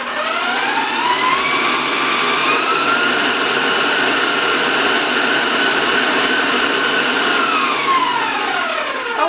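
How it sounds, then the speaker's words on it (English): An electric mixer beating brownie batter at a raised speed, a loud steady whine throughout with a pitch that climbs as it speeds up and drops near the end. "I'm also going to turn up the mixer a little bit, so again, warning you about the sound."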